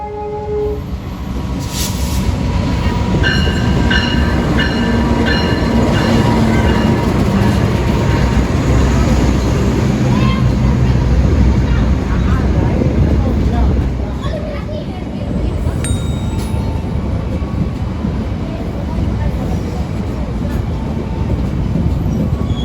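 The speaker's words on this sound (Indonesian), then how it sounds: "Kereta api Sancaka ini udah jadi primadona banget di jalur Yogyakarta Surabaya ya" Sancaka long-distance passenger train on the Yogyakarta–Surabaya line rolls steadily and loudly over rails with a continuous rumble, a horn-like tone early on, scattered clatter, and a station announcement heard at the start.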